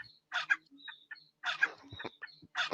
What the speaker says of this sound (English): They're gonna attack the chicken.